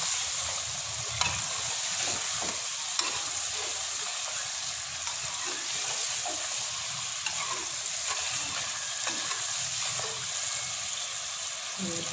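Fried chicken is stirred into a sizzling karahi masala in a pan: a soft, continuous fry hiss with repeated scraping strokes of the spoon, moderately quiet and close.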